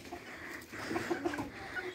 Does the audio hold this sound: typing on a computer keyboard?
no